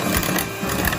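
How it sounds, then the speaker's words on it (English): Egg being whisked with natural brown sugar in a bowl, a quick run of rhythmic scraping and tapping strokes, close and fairly loud for about a second. "Now I'm going to whisk them nicely"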